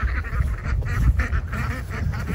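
Gold Star ducks free ranging outdoors, quacking repeatedly in an irregular, overlapping chorus at close range over steady low background noise.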